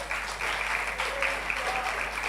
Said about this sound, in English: So can we all clap for them?